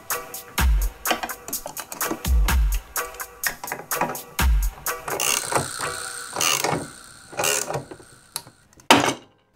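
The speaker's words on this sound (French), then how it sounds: "une fois que les 3 vis sont mises en position, on va pouvoir serrer l'écrou central pour sortir le rotor externe" A homemade flywheel puller's central nut being tightened to draw off an external scooter ignition rotor: loud, close ratcheting clicks in repeated bursts with short pauses, then scraping metallic creaks and a final sharp clank, with no talking.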